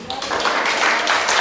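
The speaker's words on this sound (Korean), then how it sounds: "박수 소리는 크구만요, 여러분." An audience at a real-estate tax lecture claps, a dense, fairly loud patter of hands that lasts the whole brief moment with no pause.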